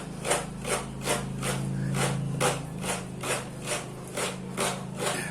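Coconut meat is scraped on a grater in steady rhythmic strokes, about two per second, a close raspy scratching over a low background hum.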